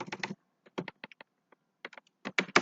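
Keystrokes on a computer keyboard as a prompt is typed, coming in quick clustered bursts separated by short pauses, close and fairly clear with no talking.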